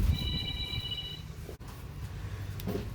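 A telephone rings once in a garage during work on a 1977 Chevrolet Cheyenne C10 pickup, a thin electronic tone lasting about a second over a low, steady background hum.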